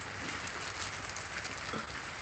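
Heavy rain pours steadily at a home garden of colorful caladium plants, a dense even hiss with scattered drops, moderately faint and continuous.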